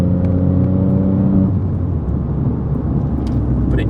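Ford Fiesta MK7 with a 1.0L EcoBoost engine pulls hard through the gears from inside the car, a loud steady engine drone with a tonal whine that fades after a shift into a broader rumble, with no talk.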